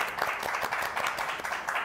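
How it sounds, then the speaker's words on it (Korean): Audience applause after a firefighter's special lecture at a youth dream camp, a steady wash of many hands clapping that carries on for the whole two seconds without a break. "우리 소방관님에 대해서 다시 한번 박수 다시 한번 부탁드립니다"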